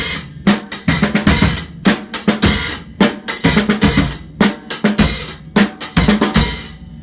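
A rock drum beat in 9/8, played loud and close as punchy kick, snare and cymbal hits in an uneven, syncopated rhythm with short gaps.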